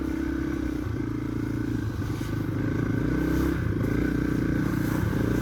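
A motorcycle ridden through about two feet of deep snow, its engine droning steadily and close with rough clattering and scraping, holding a continuous loud note throughout without speech.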